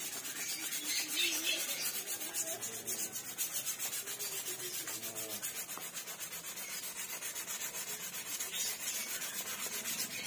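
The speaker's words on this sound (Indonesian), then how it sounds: "ini pertama kita amplas seperti ini" Steady rhythmic scratching of sandpaper rubbed back and forth by hand against horn, close and continuous, with no voices.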